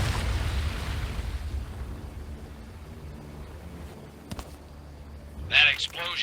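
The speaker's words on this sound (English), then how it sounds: "That explosion got the attention of all the German patrols in the area." In the Medal of Honor VR game, a deep explosion rumbles loudly at the start and fades into low noise, followed later by bursts of sharper noise.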